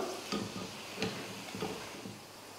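Breaded chicken nuggets fry in oil over a low flame, giving a soft, steady sizzle with a few faint clicks and stirring taps on top, quiet and close.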